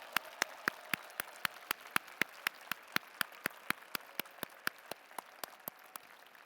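Evenly spaced sharp claps at the 2022 UW–Madison winter commencement ceremony, a steady rhythmic beat of single handclaps heard faintly over a quiet background.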